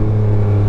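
A 2023 Yamaha Tracer 900 GT motorcycle engine while riding, a loud, steady low drone with a strong, even hum and no break.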